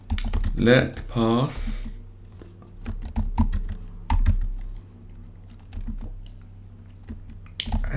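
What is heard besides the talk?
typing code on computer keyboard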